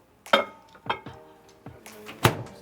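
Chocolate and butter in a bowl going into a microwave: several separate clunks and light clinks of dish and glass, then a firmer thunk as the door shuts, close by in a quiet kitchen.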